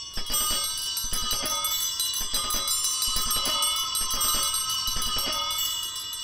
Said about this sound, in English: The bells ceased as they had begun, together.